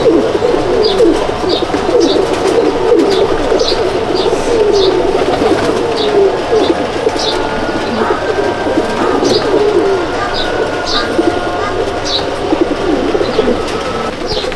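Pigeons cooing in a loft in Andul, Howrah, as a steady chorus of low, overlapping coos with small regular chirps repeating above it.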